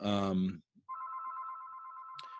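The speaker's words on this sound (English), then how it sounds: "I should really take this phone out of here." A telephone rings during a spoken talk. A voice is heard briefly, then a steady electronic ringing tone holds evenly for over a second before a short click.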